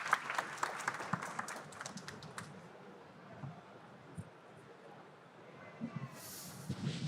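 Audience applauding guests at a banking technology conference panel, a scattered clapping burst that fades into a quiet murmur of room noise, then a few claps return at the end.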